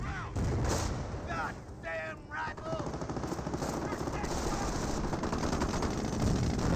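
Rapid bursts of MG4 machine gun fire crackle in a Company of Heroes battle, mixed with other gunfire and booms under continuous overlapping talk.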